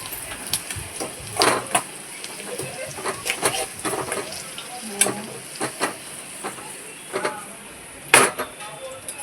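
Mustard seeds and curry leaves sizzle and crackle in hot oil, a steady frying hiss broken by frequent sharp pops and spits, close and fairly quiet.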